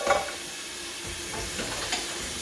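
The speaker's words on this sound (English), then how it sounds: "So I like to typically hand wash those dishes, which is what I'm doing now." Pots and pans being hand washed at a kitchen sink, a steady wash of running water and scrubbing with a few soft clinks of cookware, continuous and fairly close with no talking.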